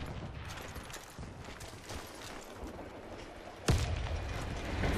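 In a shooter video game, a thrown grenade and gunfire produce a steady crackle of distant shots, then a sudden heavy boom near the end, with no voices.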